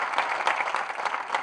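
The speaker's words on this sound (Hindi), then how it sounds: "एक बार हम सब इन परिवारों के सम्मान में जोरदार तालियां बजाते हैं।" An audience at an Independence Day poetry gathering claps warmly to honour martyrs' families, a continuous wash of many hands at moderate volume.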